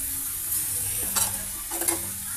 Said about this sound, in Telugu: ఈ పెద్దల్లిపాయ పీసెస్ అన్నిటితో ఈ తోటకూరని అలాగే ఫ్రై చేద్దామండి